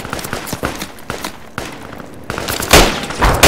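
Gunfire in the military shooter Project Reality crackles in scattered shots and short bursts at varying distances, growing louder and denser toward the end.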